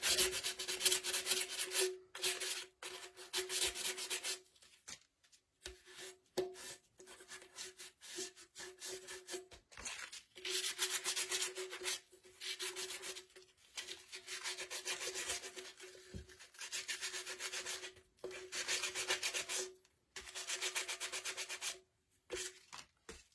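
Rhythmic back-and-forth sanding of a painted Dollar Tree wooden candle holder, with repeated scratchy strokes and short pauses between bursts, close and fairly loud, with no talking.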